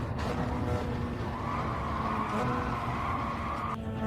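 Racing car engine and tyre scrub in Gran Turismo Sport as a Porsche takes a hit from behind by another car, a steady loud drone with a skidding squeal running through it and no voices.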